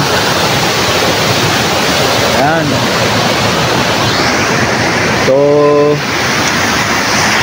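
Heavy rain and rushing stream water at a cold-spring resort on Mount Banahaw in Majayjay, Laguna, a loud continuous broadband roar throughout, with a brief tone and a person speaking over it.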